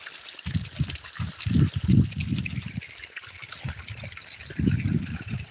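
Irrigation water flows into a wheat field, a close, steady gushing and gurgling with uneven low surges rising and falling over a few seconds, heard alone without speech.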